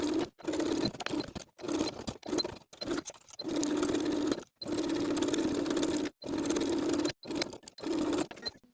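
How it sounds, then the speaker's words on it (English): A sewing machine stitches the neck facing of a tee shirt with a 3/8 inch seam allowance, its motor whirring in close bursts of one to two seconds separated by short silent pauses, with no talk. "Sew in place with a 3/8 inch seam allowance"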